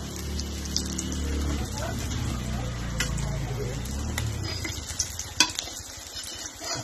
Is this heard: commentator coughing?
no